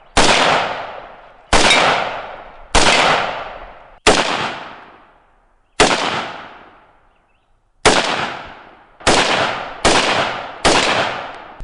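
Nine loud single shots from a 5.45 carbine rifle on an outdoor range, each a sharp crack with a decaying tail, spaced unevenly about one to two seconds apart, with no voices.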